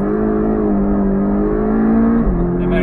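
Porsche Cayman GTS driving on cold tyres, a loud steady engine drone from inside the car, its pitch holding level then dropping slightly near the end.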